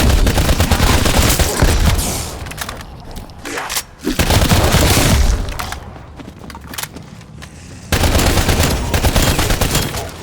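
A frag grenade thrown and bursting during a Die Maschine zombies match in Call of Duty Black Ops Cold War, loud booming blasts amid dense gunfire and heavy combat noise that fill the whole stretch.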